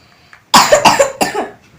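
A person coughs three times in quick succession, close and loud, with harsh throaty bursts after a faint breath.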